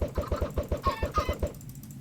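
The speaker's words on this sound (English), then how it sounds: "Alright, we got multiple chickens." Chickens in the video game Minecraft cluck in a quick rhythmic series of short, fairly faint bursts that fade out toward the end.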